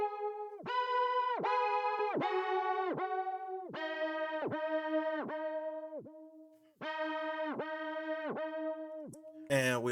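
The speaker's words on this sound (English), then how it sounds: "First, we have our pad change" Synth pad in a beat shifting to a new melody, sustained chords rising and falling in a repeating rhythmic pattern with pulsing attacks, loud and alone, with a short break near the end.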